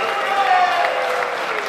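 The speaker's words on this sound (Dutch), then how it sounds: "Zullen we ons applaus voor Michiel" A crowd at a beer-tasting contest in Drachten applauds a third-place winner, a brief continuous wash of clapping mixed with cheering voices, fairly close and steady for under two seconds.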